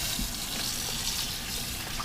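Water from a kitchen tap runs steadily over raw chicken in a sink, a continuous close splashing rush with no talk.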